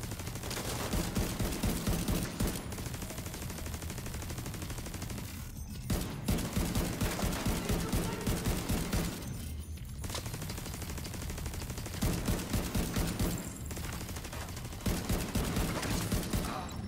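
An automated turret in The Division 2 fires long, sustained rapid-fire bursts. The bursts are broken by brief pauses, loud and continuous, with a rattling rhythm.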